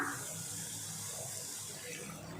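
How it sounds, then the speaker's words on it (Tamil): Tamarind water pours steadily into a pan of sautéed ingredients for garlic vathal kuzhambu, a soft, continuous splashing and trickling that stays close and fairly quiet. "இப்போ இதில் புளி தண்ணி சேர்த்துக்கலாம்."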